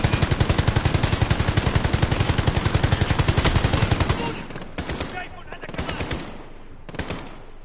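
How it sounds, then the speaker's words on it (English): Sustained rapid automatic gunfire from Call of Duty Modern Warfare, a loud, dense rattle of shots for about four seconds, then sparse separate bursts and single shots trailing off. "Who's shooting at me?"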